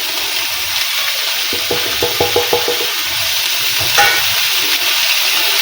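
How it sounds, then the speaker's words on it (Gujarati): Onions and tomatoes for a Gujarati papad curry fry in hot oil with turmeric, chili, salt, coriander-cumin and Kashmiri chili powder, giving a loud continuous sizzle broken by a run of rhythmic spoon-scraping stirs. "બધીને સરસ રીતે આપણે મિક્સ કરી લઈશું।"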